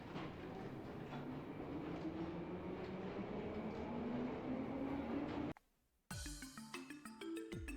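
A train pulls away in the video game Trails from Zero, a steady rumbling rail roar with a slowly rising whine, cut by a sudden brief silence and then bright chiming tones.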